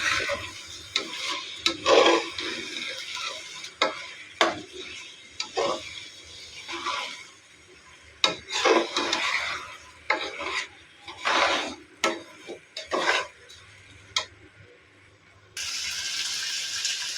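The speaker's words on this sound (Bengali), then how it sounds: "চালটাকে ভালোভাবে ভেজে নিই।" Raw rice being fried and stirred in a pot for dum biryani, with a series of gritty, raspy scrapes and shuffles coming in irregular bursts, close and moderately loud.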